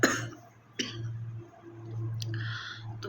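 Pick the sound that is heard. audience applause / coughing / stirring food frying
coughing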